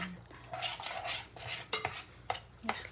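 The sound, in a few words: stirring onion in a pan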